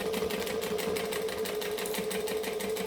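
A sewing machine chain-stitching fabric runs in a steady, fast, continuous whir with an even mechanical rhythm, close and clear, with no talk over it.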